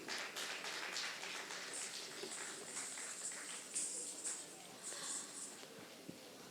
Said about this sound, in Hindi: देवियों सज्जनों, ताली से उनका साथ दें।